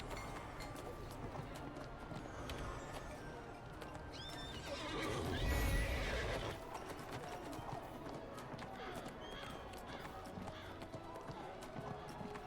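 Horse neighing and whinnying in the fantasy game Neverwinter, with hoof clip-clops, a louder whinny burst in the middle against steady game ambience and background chatter.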